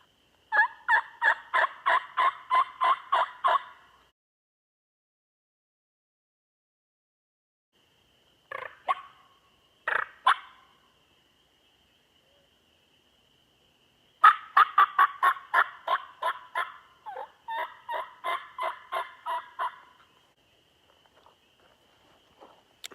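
Wild turkeys gobble outdoors in several separate bursts of rapid, rattling pulses. Some bursts are loud and close, others fainter, with silent gaps between them.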